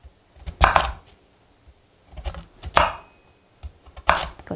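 A knife slices through sweet potato on a cutting board in three distinct, close thuds, each about a second and a half apart, with quiet pauses between and no speech.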